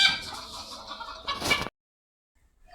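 Chickens and a rooster clucking close by in a village yard after a mongoose has gone, a loud burst of agitated clucks that stops abruptly, leaving near silence and a faint trailing call.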